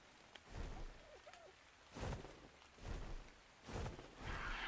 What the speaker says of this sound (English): of course it has to be foggy and rainy